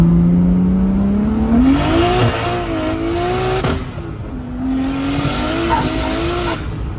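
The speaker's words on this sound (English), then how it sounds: "hearing this thing rev out and make turbo noises was absolutely worth the pain." A 700-horsepower turbocharged car revs out hard with rising engine pitch and turbo whine, a loud, close, continuous roar that drops and climbs again through gear changes.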